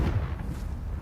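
A Confringo spell explosion in Hogwarts Legacy lands as a single heavy, muffled boom that rumbles low and fades within about a second.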